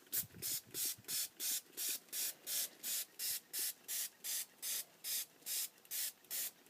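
A spray bottle of ink mists seam binding in a steady run of about fifteen short, even bursts, each a crisp hiss, fairly close and with no talking.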